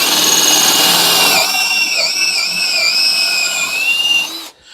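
Power drill boring a dowel hole in a wood board held in a Milescraft Jointmate dowel jig: a loud, steady whine that shifts slightly in pitch as the bit bites, then winds down to a stop.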